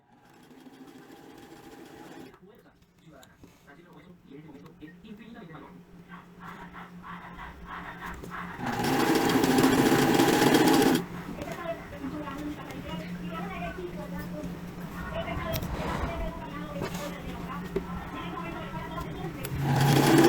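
A sewing machine runs a zigzag stitch to attach elastic inside the top edge of a retro 70s jumpsuit, whirring in bursts that grow louder and more continuous, with a loud stretch in the middle.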